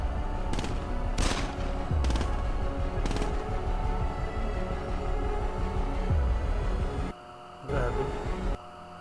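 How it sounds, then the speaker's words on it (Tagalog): Gunfire in a TV drama, several sharp shots spaced out over a constant low hum, loud and close, before the sound cuts briefly near the end. "May barilan pong nagaganap."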